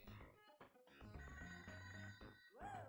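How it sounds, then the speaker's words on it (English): A telephone rings in the Sega Genesis game ToeJam & Earl, its electronic bell tone sounding in short repeated bursts over the game's busy funky music. "Oh, I hear a phone ringing."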